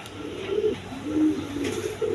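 Giribaz high-flying pigeons coo softly in a loft, with low repeated calls rising and falling over a quiet background.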